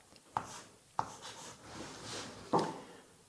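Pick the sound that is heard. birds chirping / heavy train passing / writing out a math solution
writing out a math solution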